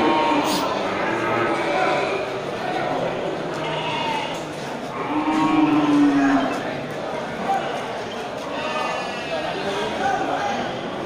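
Cattle, including Aceh breeding cows with calves, low and bellow amid the bustle of a busy Indonesian livestock market. One mid-length call rises through a steady wash of crowd noise, and people talk throughout.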